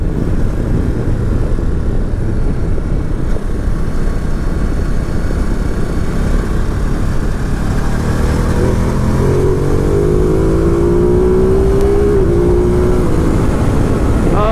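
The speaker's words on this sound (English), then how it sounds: "Wind turbulence now when you hit some higher speeds, but not too bad." Loud, steady wind roar buffets a rider on a 2019 Ducati Multistrada 950 S at higher speed, wearing a very noisy helmet, with the engine's rising tone faintly showing through the rush partway along.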